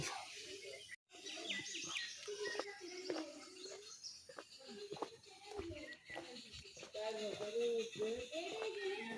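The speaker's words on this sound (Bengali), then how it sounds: "শুধুমাত্র পাখির কিচিরমিচের আওয়াজ ছাড়া আর কিছুই নাই" Birds chirp and trill intermittently against a quiet outdoor background, with a brief dropout early on.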